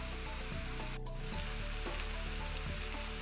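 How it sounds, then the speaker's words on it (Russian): Zucchini sticks dropped into hot vegetable oil in a frying pan, giving a steady, loud close sizzle and crackle throughout with no talking. "Разогреваю в сковороде растительное масло и отправляю кабачок."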